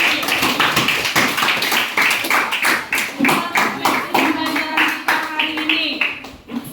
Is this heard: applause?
yes